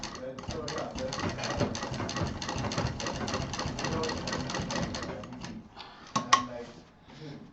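A sewing machine stitches fabric for a baby backpack in a fast, steady rattling run for about five seconds, then stops, followed by a few handling clicks and knocks close by.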